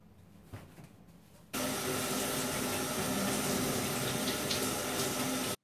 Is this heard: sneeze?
no